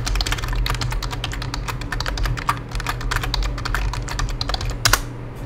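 Rapid typing on a computer keyboard, a dense close run of crisp key clicks with a few harder strikes, over a steady low hum.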